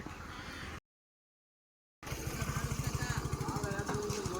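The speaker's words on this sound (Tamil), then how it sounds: "தம்பி வந்து பைக்கில் வராரு." A motorbike engine putters with a rapid, rhythmic chugging, cut by a brief silence, then returns steady and fairly close, near a forest tea stop with hills around.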